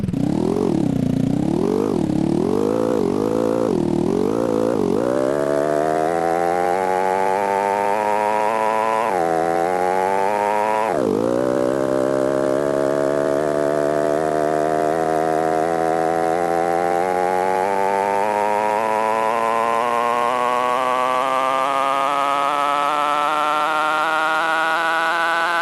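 A dirt bike engine in a VR motocross game drones loudly and continuously, warbling up and down in pitch early on, then dipping twice before climbing in a long steady rev.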